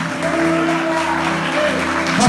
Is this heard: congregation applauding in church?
yes